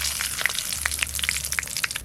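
Dry red chillies, bay leaf and whole garam masala crackle in hot mustard oil, a steady close sizzle dotted with sharp little pops and spits.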